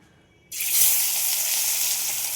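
Shankar fish hits hot oil with a sudden loud burst of sizzling that starts after a near-silent moment, then continues as a strong steady frying hiss, with no talking.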